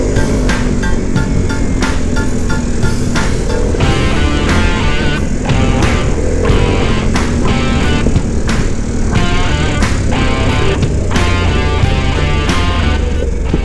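A Harley Davidson Pan America motorcycle rides off-road over gravel and dirt roads, with a steady, loud engine drone and road rumble running throughout. Repeated sharp clicks and rattles sound over it.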